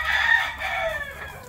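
A young six-month-old Leiper game rooster crows once, loud and close, a single drawn-out call that trails off with no other sound around it.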